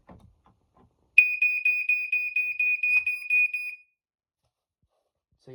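A smoke detector from a collection, already a little broken, is tested and sends out a loud, continuous high-pitched electronic beep lasting about two and a half seconds, with brief quiet before and after.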